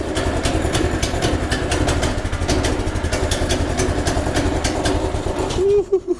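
A rough old tractor engine idles steadily and loudly with a rhythmic chug, running without pause until it sputters near the end.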